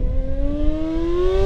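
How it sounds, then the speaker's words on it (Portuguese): A Yamaha XJ6 motorcycle revs hard toward high RPM, its engine note rising in a smooth, loud climb over a brief burst. "Quando ela chega em 13 mil RPM, a gente joga a marcha e puxa, a moto vem"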